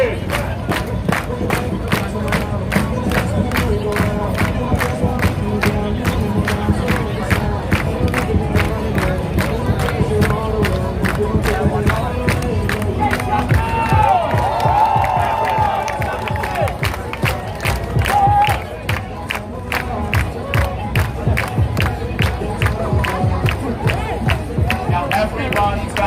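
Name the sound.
crowd clapping and chanting in Times Square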